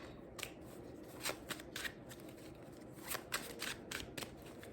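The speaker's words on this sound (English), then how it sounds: "I love my cards, so the material this stuff is, the card stock, it shuffles so good." Stiff tarot cards are shuffled in several quick riffling bursts, crisp and close, with short pauses between each shuffle.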